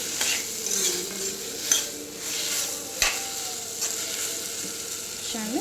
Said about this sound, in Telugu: మంచిగా టమాటా దగ్గరికి ఉడుకుతుంది, చూసారా?